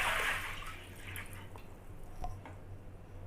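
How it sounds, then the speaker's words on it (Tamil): A brief rush of about a litre of water being poured into a pot, fading into scattered drips and faint trickling in a quiet room. "இதில் 1 லிட்ரு தண்ணி அளவு ஊற்றிக்கங்க."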